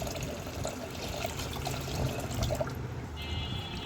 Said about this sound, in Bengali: ধুয়ে একবারে জল দিয়ে ভিজিয়ে রাখবো